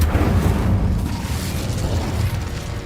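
A fire spell cast in the Hogwarts Legacy video game, a dense, loud rumbling burst that roars steadily through the whole moment with heavy low-end boom and no speech.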